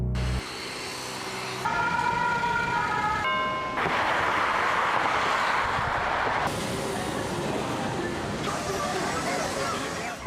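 London city street noise with traffic rumble and a siren sweeping through in rising and falling tones, steady and moderately distant, while someone speaks in French over it.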